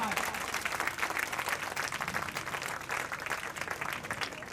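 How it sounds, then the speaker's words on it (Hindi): Students at a coaching institute in Malakhera clap loudly together, a thick continuous roar of clapping that holds at one level throughout, with voices mixed into the din. "तो एक बार जोरदार तरीके से हाथ खड़ा करके ताली बजा के बताओ कि कितने विद्यार्थी चाहते हैं कि आके वैष्णव सर अलवर आए"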